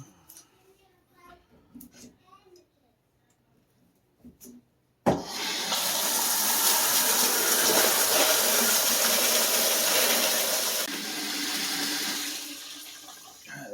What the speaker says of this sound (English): we'll break this valve open to get some water